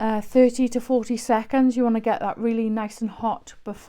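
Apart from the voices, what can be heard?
None of the usual background noises is heard.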